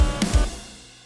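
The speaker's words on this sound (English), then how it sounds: "So if you were to put an accent crash there, it would sound like this." A short drum hit with a crash cymbal accent, a punchy low thump followed by a bright splash that rings and decays quickly.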